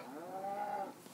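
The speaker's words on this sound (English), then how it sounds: "Stop killing my cow." A cow in the Minecraft video game gives a single short, mid-loud moo when struck, heard alone with no talk over it.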